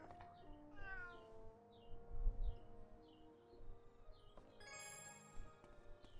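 A cat being petted in a fantasy role-playing game, a string of short, faint repeated meows over soft background music, with a bright chime near the end.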